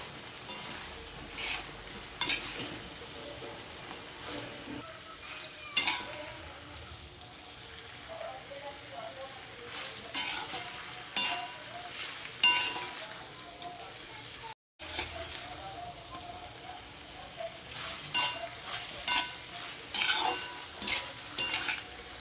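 Fried soybeans and paneer are stirred through a sizzling chili paneer mix in a frying pan, restaurant style: steady scraping strokes with a soft background fry that cuts out for a moment partway through.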